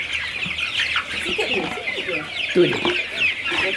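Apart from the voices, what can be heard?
chickens clucking on a village chicken farm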